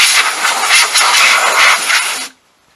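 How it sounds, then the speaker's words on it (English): Compressed air blasting dirt off a Husqvarna TC125 / KTM 125SX dirt bike motor and radiators: a loud, steady broadband hiss with slight pulsing that cuts off sharply near the end, leaving quiet. "I take some compressed air and I just blow it around the motor, up in the radiators, everywhere"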